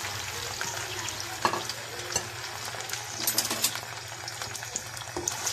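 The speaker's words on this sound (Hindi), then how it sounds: "तो भिंडियाँ ये अच्छे से फ्राई हो रही हैं।" Whole okra frying in vegetable oil, a continuous close sizzle with scattered spatula stirs and scrapes throughout, no voices.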